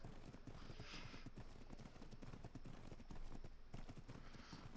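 Steady clip-clop of horse hooves as a horse is ridden across open ground in the survival game Ark, a fast continuous rhythm of hoofbeats close by under a constant wind-like bed.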